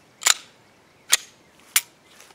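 Three sharp, close pistol shots from a Glock 17 with a CMC trigger and barrel firing AngelFire ammo crack out at uneven intervals, each dying away quickly, with a faint fourth sound at the end.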